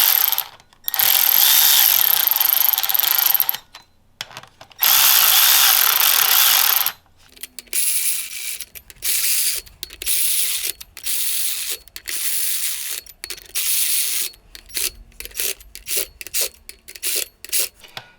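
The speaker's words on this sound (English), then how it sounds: "I'm going to go ahead and tighten them down" During a clutch installation, flywheel bolts are snugged down in a star pattern with a hand ratchet, producing long buzzing ratchet runs and then rapid clicking bursts broken by short pauses, loud and close with no talk.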